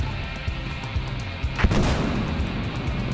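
Gunfire in the video game Battlefield Hardline: scattered thumping shots and one sharper blast midway, over a steady rumbling background.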